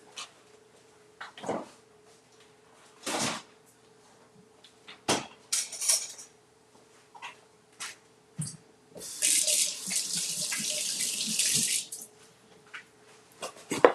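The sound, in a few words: washing hands under running tap water at a sink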